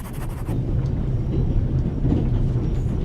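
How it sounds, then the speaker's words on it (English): A train rumbles along in The Raven Remastered, a steady low, dense rolling drone with faint rattles, continuous and fairly loud throughout, with no talking over it. "The noise on this train is driving me crazy."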